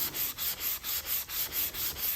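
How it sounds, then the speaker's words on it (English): Hand sanding a Minwax tung oil finish on wood, a steady rhythmic scrape repeating back and forth about every quarter second, close and alone. "This is sanding out so nice."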